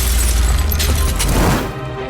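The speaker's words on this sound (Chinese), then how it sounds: "灯泡爆炸了" A light bulb bursts as a dramatic sound effect in a horror thriller scene, a loud booming crash with a shattering burst that swells then fades within two seconds.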